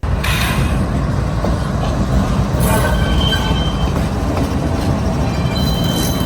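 Two locomotives, one CSX and one Norfolk Southern, roll toward Collier Yard with a loud, steady rail rumble close by, broken by brief high wheel squeals and faint clatter throughout, with no voices.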